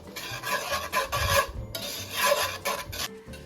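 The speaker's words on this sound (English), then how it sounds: "I've literally been whisking it for only 1 minute, and I'm confused how we have to do it for 4 minutes." Scraping and rasping of a whisk being worked briskly in a pan while making pesto ravioli, in uneven rhythmic bursts up close with no talking.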